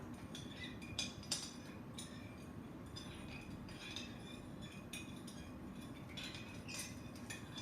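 A utensil stirs a dish soap and sugar bubble solution in a dish, making faint, irregular clinks and scrapes against the container over a quiet background hiss.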